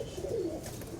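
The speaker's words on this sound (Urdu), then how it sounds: "سر جی کبوتر دیکھ رہے تھے، اچھا لگا تو پکڑ لیا کبوتر، بہت اچھا کبوتر ہے" Pigeon cooing close by in soft, rolling low coos that run steadily through the moment, with no talk over them.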